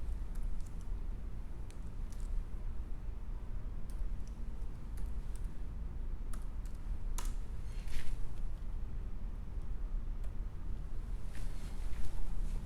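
A password is typed on a computer keyboard, with scattered, irregular key clicks spread across a quiet room background, a few louder taps standing out.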